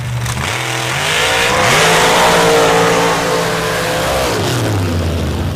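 A drag race car launches off the line at an MRA championship round in Missouri on a very hot afternoon: a loud, close engine roar climbs steadily in pitch, holds high, then begins to ease.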